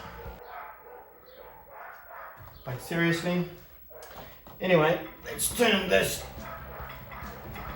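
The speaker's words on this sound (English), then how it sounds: "I think I live in the street with the noisiest dogs in the world." Neighbourhood dogs barking in the background of a street, several bursts of barks and yips at moderate distance, with someone talking over and between them.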